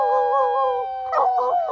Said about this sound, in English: Big ultimate howl.